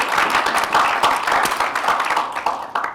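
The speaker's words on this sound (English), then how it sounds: "It's where you clap." An audience at a climate justice and housing policy gathering claps in a short burst, the applause close and moderately loud, thinning toward the end.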